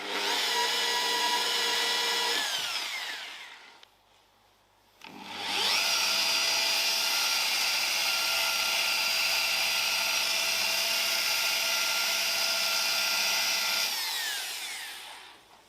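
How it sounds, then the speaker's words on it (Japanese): Power polisher buffing the car body of a Caterham Super Seven with blue polishing compound, a loud steady high-pitched whine that drops away briefly near the start, then returns and runs continuously before tapering off. "このポリッシャーに次は青棒をつけて、白棒じゃなくて青棒をつけて磨いていきます"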